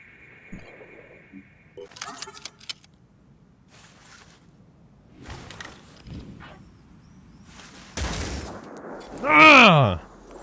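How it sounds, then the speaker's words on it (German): Sniper rifles fire in the tactical video game Phoenix Point, giving several sharp, spaced-out reports mixed with other in-game effects, with a shrill rising electronic sweep near the end. "Das muss nur jeder drauf schießen von den Snipern, dann habe ich es betäubt."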